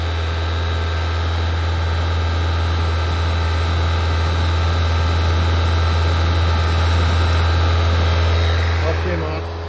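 Car engine running steadily during a water injection carbon cleaning, a loud constant drone with a strong low hum, held at a steady idle throughout.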